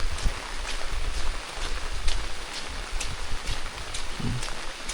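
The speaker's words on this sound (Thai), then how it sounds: "ฝนตก" Rain falling steadily in Kep National Park, Cambodia, a dense hiss with scattered sharper drops tapping nearby surfaces.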